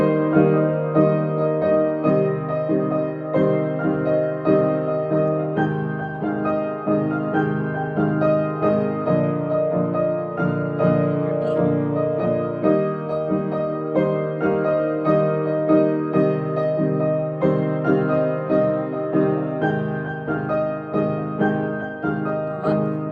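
A solo piano plays the transition passage of a song, steady flowing chords and arpeggios in an even rhythm. It is close and moderately loud, with no voices.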